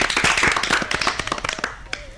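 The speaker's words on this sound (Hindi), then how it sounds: "तो इनके लिए एक जोरदार तालियां तो बनती हैं।" A small audience claps for a child's poem recital at a school student program, a brisk burst of close hand claps that thins out and fades within about two seconds.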